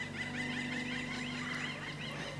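Birds outdoors call in a continuous, wavering warble, a steady bird chorus running over a constant low background hum.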